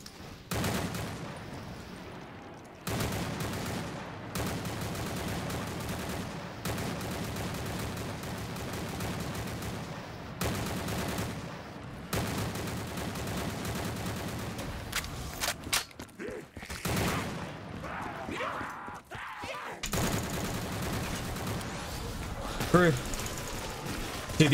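Sniper rifle fire in a Call of Duty custom zombies map, heard as repeated loud, booming shots separated by brief gaps, with mechanical clatter and possible voices mixed in throughout.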